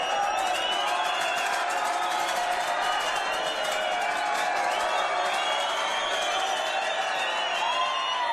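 A school rugby crowd at a Southport School match roars and cheers steadily, with whistles and whoops in a dense, sustained wall of noise and no break.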